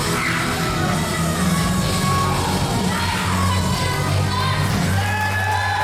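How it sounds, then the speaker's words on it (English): A live women's wrestling crowd cheering at a 2KW event, a dense continuous roar of yelling and whooping voices, loud and steady throughout. "Leading the 2KW faithful in a cheer for Ashley Vox"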